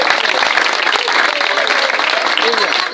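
Applause from the audience at a Gijón athletics club gathering: brisk, loud clapping from a close crowd, sustained throughout, with voices mingling underneath.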